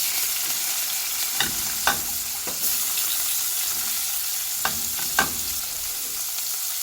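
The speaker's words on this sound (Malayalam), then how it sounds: "അത് ചൂടായിട്ടുണ്ട്. അതിലേക്ക് നമുക്ക് കുറച്ച് സവാള ഇട്ട് കൊടുക്കാം" Sliced onions frying in a hot kadai: a steady close sizzle with several sharp stirring scrapes and clinks at irregular intervals.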